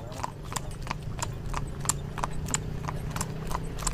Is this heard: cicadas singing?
no